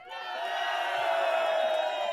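A crowd at a pro-UK rally in George Square, Glasgow, lets out a sustained roar of cheering and whooping voices that rises and holds loud and close.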